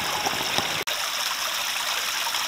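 Water pours steadily through a waterfall box filter, a constant close rushing trickle with one brief dropout partway, otherwise unbroken and with no voices.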